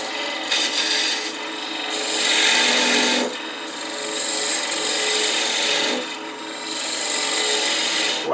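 A wood lathe hums while a gouge scrapes and cuts across a spinning wooden cube in several long passes separated by short pauses.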